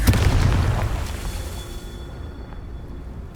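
A Confringo fire spell from Hogwarts Legacy goes off as a loud, close booming explosion that rumbles and slowly fades over a few seconds, with a fresh burst at the very end.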